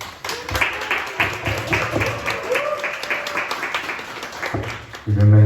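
A church youth-group congregation applauds to welcome four visiting ninth-grade students: a dense, steady wash of many hands clapping for several seconds, then fading as a low voice or hum takes over near the end.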